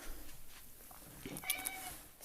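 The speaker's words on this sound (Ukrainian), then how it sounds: "киця." A domestic cat meows once, a short rising call, faint and somewhat distant, over a quiet indoor background.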